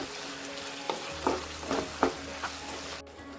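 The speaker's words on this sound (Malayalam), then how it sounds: "ഇതൊന്ന് ഇളക്കി കൊടുക്കാം." Chilli chicken sauce with tomato sauce and pepper stirred in a pan, a soft sizzle under several distinct spoon scrapes at an uneven rhythm, close and fairly quiet, ending abruptly.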